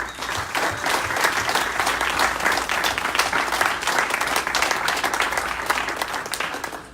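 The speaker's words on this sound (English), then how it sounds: "Let's give these guys a round of applause." A graduation audience for a software developer program gives sustained applause, dense steady clapping from many hands filling the room at an even level throughout.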